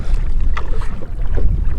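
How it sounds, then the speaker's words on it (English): Wind buffets the microphone outdoors beside water where a Mavic Air 2 drone tracks a kayak, a steady loud low rumble with gusty swells and no talking. "A little bit windy here."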